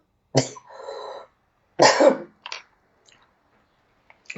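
A person coughs sharply twice, the second a harsher burst with throat clearing, followed by a smaller cough and faint breathy sounds in a quiet indoor room.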